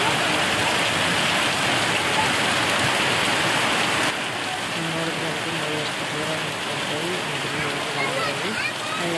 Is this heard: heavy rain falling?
yes